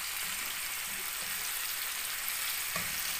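Sea bass frying in oil until golden and crisp, a steady close hiss of sizzling oil throughout with faint soft bumps of the fish being turned, no talking.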